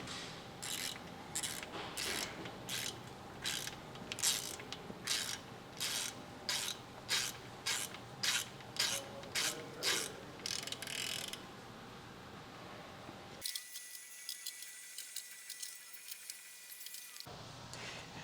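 A ratchet wrench tightens the oil drain plug back onto a Polaris RZR Trail with a fresh crush washer. Quick, rhythmic clicking strokes repeat for about eleven seconds, then stop and give way to a quieter hiss.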